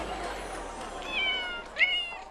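A cat meows twice, short rising calls near the mic over a faint background hum, with a little quiet talk nearby.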